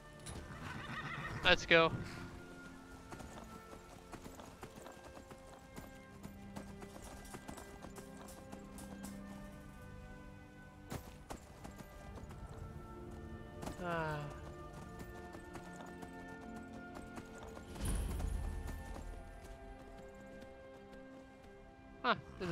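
A horse in the video game Skyrim whinnies loudly and repeatedly, with steady clip-clop hoofbeats as it is ridden, set against game music, while someone talks over it.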